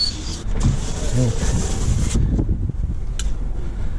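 A 2000 Toyota Hilux ute's power window motor runs in a steady, close whir for about two seconds and stops with a click. A softer mechanical hum and a brief click follow.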